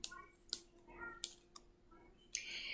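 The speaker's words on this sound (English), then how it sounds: "I still like to use the scissors." Sharp scissors snip flower stems while a grocery store bouquet is trimmed, giving five or six crisp, separate clicks spaced irregularly over a quiet background.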